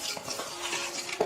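Strawberries and sugar being stirred in a pan for strawberry jam, a soft scraping swirl with light clinks of the spoon against the pot, steady and close, ending in one sharper knock.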